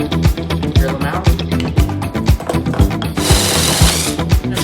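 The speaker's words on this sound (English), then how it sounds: "Just having to do some sanding." Rhythmic rasping strokes of sanding on wood glued onto an old computer fan, loud and close, repeating steadily with a brief burst of harsher hiss near the end.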